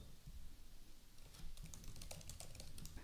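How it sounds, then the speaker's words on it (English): Quiet, rapid keystrokes on a computer keyboard tap in quick irregular bursts over a low background hum, with no talking. "let's type learn more"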